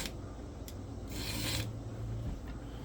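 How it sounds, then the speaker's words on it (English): Hand file sharpening the teeth of a worn Stihl MS 180c chainsaw chain, with steady rasping strokes that rise into a louder scrape midway over a low background hum, no talking. "press down a little bit and go forward, keeping the line parallel with the chain, and I'll just continue sharpening here"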